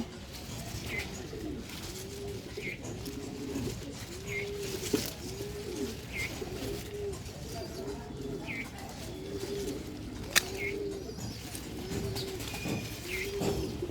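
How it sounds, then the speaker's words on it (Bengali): A dove or pigeon coos repeatedly in a steady, evenly spaced rhythm from a rooftop garden, moderately distant and soft over a faint outdoor background. "খুব সুন্দরভাবে ডাকতেছে কিন্তু পাখিটা আমি দেখতেছি না"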